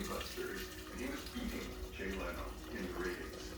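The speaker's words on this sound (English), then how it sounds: "So put the water in the container." Boiled water poured into a container to make kombucha tea, a steady splashing flow that runs throughout, sounding close and moderately loud.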